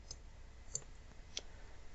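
Faint, sharp computer mouse clicks, three small ticks spaced apart against a quiet room background, right-clicking on a layer in mapping software.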